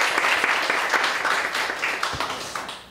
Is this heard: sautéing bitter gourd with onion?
no